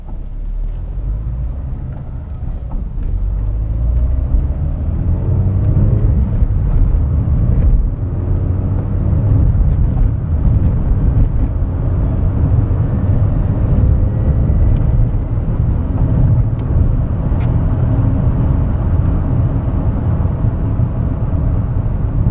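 Citroen Saxo VTS 1.6 16V 120 hp from 1999 accelerating hard, a strong low engine roar rising and holding loud and close for the whole stretch with no talking.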